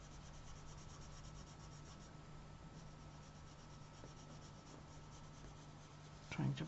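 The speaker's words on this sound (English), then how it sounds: "Trying to burnish it in a little bit, the color I got on here." Coloured pencil being burnished into Sakura manga paper, a steady soft rubbing and scratching that continues close and quiet throughout, with a brief louder scrape near the end.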